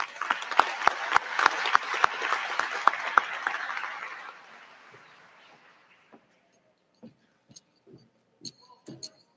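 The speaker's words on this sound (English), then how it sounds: "Please give a round of applause for all of our scholastic recognitions." Applause from a high school commencement crowd: dense, loud clapping with sharp individual claps that fades out over about four seconds, followed by a few scattered isolated claps and small knocks.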